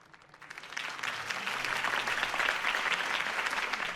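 Crowd applause in a video game, Batman: The Telltale Series, swells from quiet to a sustained, dense clapping roar that holds steady.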